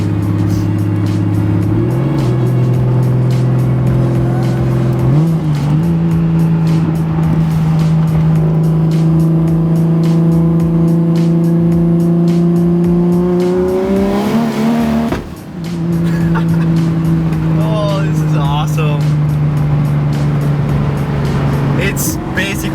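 A single-turbo BMW 135i drives on wet roads, its engine droning steadily at changing pitch while boost breaks the Michelin Pilot Super Sport tires loose, with a brief dip partway through.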